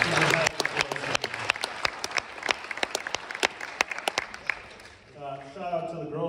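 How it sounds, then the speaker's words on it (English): Applause from a crowd at a high school track and field banquet, dense sharp clapping that fills most of the stretch before tapering off into room noise and a voice at the end. "she should get 2 rounds of applause"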